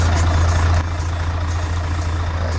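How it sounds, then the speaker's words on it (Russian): Heavy trucks stuck in mud on the road to a ferry crossing toward Naryan-Mar, a loud, close low engine rumble churning continuously with a slight drop in level partway through. "Застрявшие в грязи большегрузы по дороге к переправе в Нарьян-Мар – ежедневная проблема этого года"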